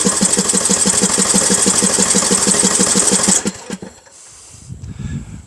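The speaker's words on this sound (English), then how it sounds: "I like to give the starter a slight break after cranking for a moment and try again." A lawn mower engine cranks on its electric starter in a fast, even chugging rhythm for about three seconds, loud and close, then stops and leaves quieter rustling.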